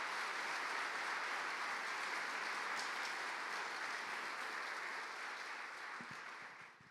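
Church congregation applauding together in a steady, dense wash of clapping that holds for several seconds, then thins and fades out near the end; no voices over it.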